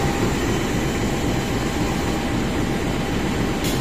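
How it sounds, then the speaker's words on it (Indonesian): Vintage CC 201 83 31 diesel locomotive running near Rangkasbitung station, a loud, continuous rumbling drone of engine and rolling wheels that holds steady throughout. "Luar biasa, ini lokomotif bisa tembus ke Kulon ya."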